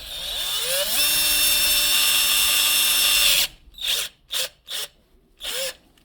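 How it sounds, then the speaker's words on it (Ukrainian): A power drill bores a hole into the negative cell of a sealed maintenance-free battery: one loud, continuous whir for a few seconds, then four short, sharp bursts. "Прям ось так засверлюємо мінусову банку отвір."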